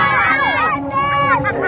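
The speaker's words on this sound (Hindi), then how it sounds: "तो चिल्लाओ थोड़ा, शोर और करो" A group of friends in Shillong shouts and cheers loudly together, a rowdy mix of overlapping young voices with rising yells close by.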